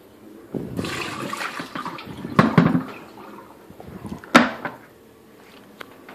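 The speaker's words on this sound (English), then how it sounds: "And you just dump it down the drain." Dirty filter water from a shop vac converted to water filtration is poured down a drain, a close splashing gush with a few sharp clunks and drips as it empties.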